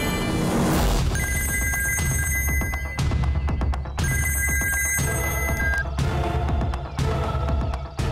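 A telephone bell rings in a Bhojpuri TV serial scene, sounding in two loud bursts of trilling rings over a dense music bed, with no voices.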